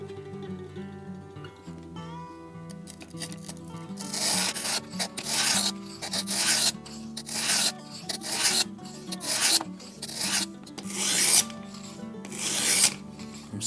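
Knife blade drawn across a 120 grit stone on a RUIXIN Pro sharpener, loud close rasping strokes repeating in an irregular rhythm with short pauses between passes, no talking.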